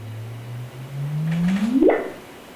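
A single sonified gravitational-wave chirp from a neutron star merger: a steady low tone that slowly rises, then sweeps sharply upward and ends abruptly, heard alone with no voices.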